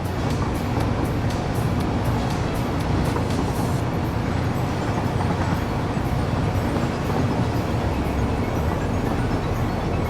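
A train runs steadily in the Satisfactory video game, a loud, continuous rumble and rolling clatter with no pauses or voices over it.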